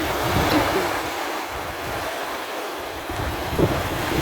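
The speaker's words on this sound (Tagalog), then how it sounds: "Ang ganda ng dagat to" Rough sea waves rolling onto the shore where children are swimming, a continuous roaring wash with wind rumble on the microphone and a couple of brief louder surges.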